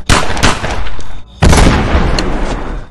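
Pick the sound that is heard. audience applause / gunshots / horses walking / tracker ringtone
gunshots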